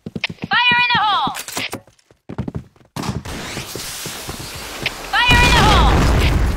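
Grenade blasts in the shooter game Point Blank, two heavy booming bursts a few seconds apart, each preceded by a shouted in-game voice callout, with clattering gunfire and rumble between them.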